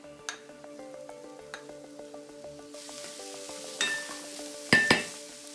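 Onion goes into a pan of eggplant frying in oil; the sizzle swells as it lands, with light clinks of a utensil against the pan and soft background music.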